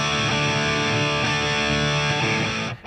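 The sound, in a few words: EVH Wolfgang electric guitar through Marshall amp with reverb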